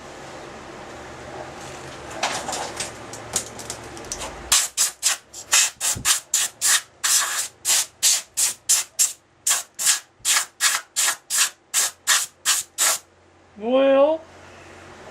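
Hand sanding of a tea light holder, a long run of rhythmic back-and-forth rasping strokes, close and fairly loud, preceded by quieter rustling and followed by a brief whistle-like tone at the end.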